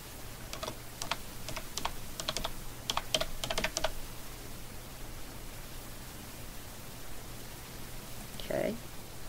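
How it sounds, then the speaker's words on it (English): Quick bursts of clicky computer keyboard typing entering an answer, several fast keystroke runs over a steady background hiss, then a short click near the end. "I'm going to click in the box and type in the correct answer"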